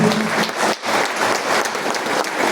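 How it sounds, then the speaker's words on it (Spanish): Audience applause at a transport union assembly, a brief dense burst of clapping with a momentary dip, otherwise steady and close. "Pido un fuerte aplauso."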